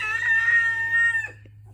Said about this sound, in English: So I've got about 13 roosters